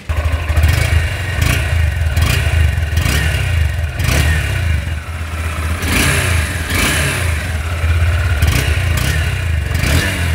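A 2024 Honda Hornet 2.0 motorcycle engine idles with a rough mechanical clatter and is revved repeatedly in short bursts, loud and close.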